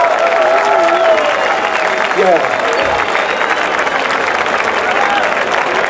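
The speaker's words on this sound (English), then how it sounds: "If you understand reggae music, clap your hands on it." A concert crowd at an open-air night event claps along to reggae music in Poggiardo, with sustained rhythmic clapping over amplified music and a singer's voice, fairly loud and continuous.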